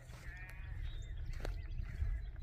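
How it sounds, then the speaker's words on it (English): Recorded sheep bleats played outdoors through a Bluetooth speaker to lure predators, heard as a couple of short, thin calls against steady low background rumble, with no talking. "we put this Bluetooth speaker out here and played sheep noises all night long."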